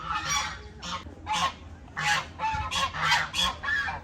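Birds at the Koktobe zoo honk repeatedly like geese, a series of loud, nasal calls in quick irregular bursts, close by, with no talking.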